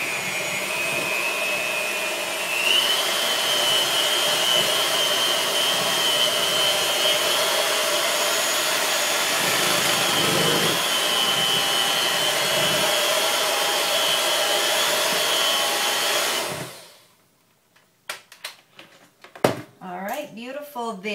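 An electric mixer blends chocolate zucchini cake batter for a bundt cake, a loud, steady motor whir running for about sixteen seconds before cutting off, followed by a few light clatters and knocks.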